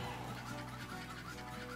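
A chicken clucks in the fighting video game Super Smash Bros. Ultimate, a short burst of fowl calls over busy game sound and music with no talk.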